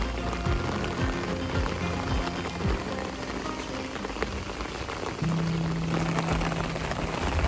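Heavy rain pours steadily on a mountain hiking trail on Hong Kong's Wa Shan military route, a dense close hiss of drops with scattered louder pattering hits throughout, no voices.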